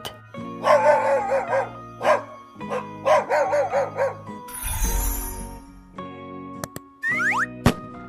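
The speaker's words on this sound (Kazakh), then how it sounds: "Ит." A dog barks in a quick series of close, loud woofs in a children's animal-learning cartoon, followed by a whooshing swirl and cartoonish boing and ding effects.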